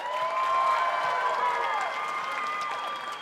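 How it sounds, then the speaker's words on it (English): An audience at a student musical showcase applauds students on stage, a dense, sustained wash of clapping with cheering and high whoops over it, fading slightly toward the end. "Let's give another big round of applause to these great students from Asmser."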